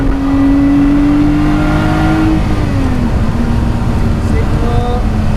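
A race car engine drones steadily at high revs around the Donington Park circuit, its pitch easing down and then holding, with a person speaking over it throughout.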